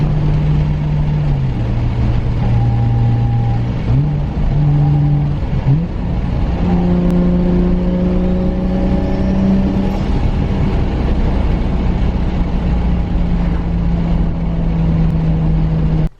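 A Toyota Supra fitted with a T56 Magnum manual transmission accelerates hard through the gears, loud and close, its engine note climbing, dropping at each shift, then climbing again.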